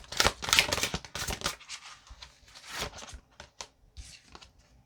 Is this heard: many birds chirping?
no